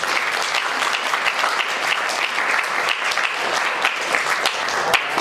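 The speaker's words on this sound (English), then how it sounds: "Last round of applause." Dense, steady applause from a crowd at a student representative event, many hands clapping evenly throughout without pause.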